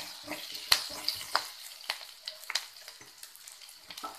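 Onion, ginger and garlic sautéing in a pan, a light crackling sizzle broken by sharp spatula taps and scrapes at an irregular pace, close and alone.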